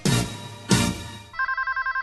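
An electronic phone ringtone chirps in a quick regular pulse of about eight short tones, coming right after two brief bursts of other sound.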